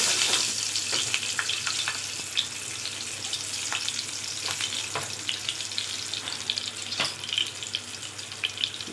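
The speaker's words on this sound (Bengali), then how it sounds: "পনির ভাজা তেলের মধ্যেই তেজপাতা আর জিরে দিয়ে দিচ্ছি, সাথে 3টে কাঁচা লঙ্কা দিয়ে দিচ্ছি।" Bay leaves, cumin and three green chillies fry in hot oil left over from frying paneer, giving a steady close sizzle with scattered pops and crackles.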